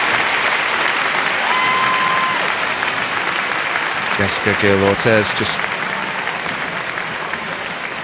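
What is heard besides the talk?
arena applause as injured gymnast is stretchered off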